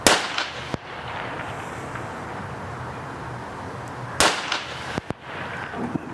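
A Huben K1 .25 caliber air pistol fires slugs, giving sharp, close cracks, with a few crisp reports standing out over a steady background hiss and rumble.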